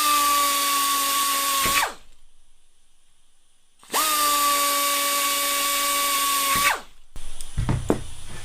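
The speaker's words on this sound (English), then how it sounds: "Now I can go ahead and pre-drill those" A power drill pre-drills aluminum ribs for the flaperons of a Zenith 701 experimental airplane in two long, loud, steady whining runs separated by a short silence, followed by a few clanks of handling.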